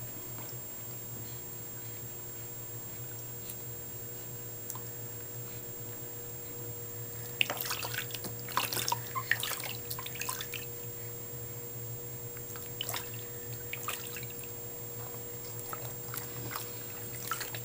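Water softly splashes and drips during a baby's first bath. The sounds are faint and come in scattered bursts over a quiet room hum.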